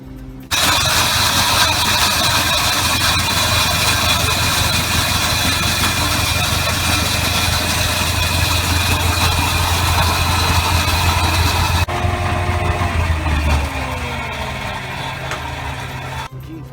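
A flour-mill style grinder pulverises turmeric in a Lahore spice shop, a loud continuous motor drone with steady grinding hum that runs throughout, then shifts in tone and slowly winds down near the end.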